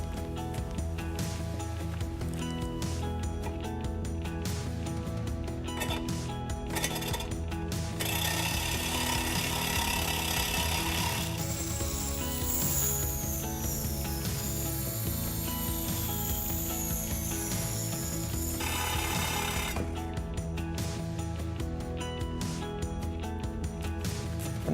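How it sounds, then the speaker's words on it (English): A Milwaukee Sawzall reciprocating saw cuts through pipe, a loud, continuous mechanical buzz with a harsh rattling edge that runs steadily for the whole stretch with no pauses. "that's how you get a good, clean, square cut using the Sawzall from Milwaukee"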